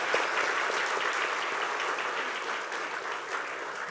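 A crowd applauds steadily at a 39th anniversary celebration of JEC Eye Hospitals and Clinics in Jakarta, the dense clapping sustained and fairly distant for several seconds, with no talk over it.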